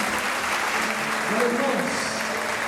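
Church congregation applauding during a Portuguese-language evangelical service, a steady dense wash of clapping that continues under a voice addressing the brothers and sisters.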